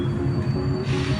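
A train rolls along rails with a steady low rumble and faint wheel squeal. The sound is continuous and fairly close, and nobody speaks.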